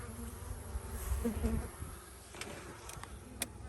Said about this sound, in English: So the bees can work their way out.